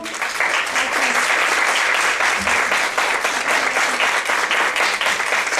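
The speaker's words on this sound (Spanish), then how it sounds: "para quien le pido por favor un aplauso" An auditorium audience applauds a speaker receiving her certificate at a talk on gender equality policy, a loud, sustained burst of many hands clapping that fills the whole stretch without talk.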